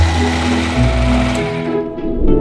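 KitchenAid food processor with its mini bowl finely chopping tomatoes with lemon-infused olive oil on speed 1, a loud steady motor whir with a slight pitch shift partway through, running alone for about two seconds.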